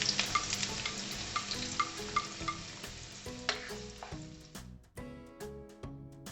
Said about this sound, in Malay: tumiskan bawang merah kecil